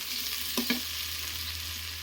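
Onions fry in hot oil for a duck curry, a continuous close sizzle broken by two quick scraping clinks of a utensil, with no one speaking.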